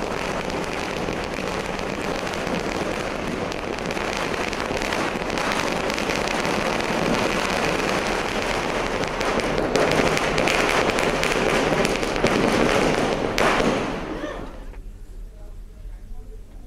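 Fireworks and firecrackers burst late into the night in Bhubaneswar, a dense, continuous crackle of overlapping pops and bangs that swells near the end and then drops away abruptly.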